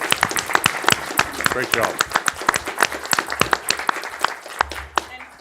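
A township meeting audience claps for festival volunteers: a brisk burst of many hands clapping at close range, with a voice speaking over it.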